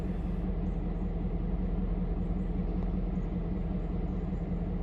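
Two GP38-2 diesel locomotives haul a passenger train, giving a continuous, steady low rumble of engines and rolling cars with no voices.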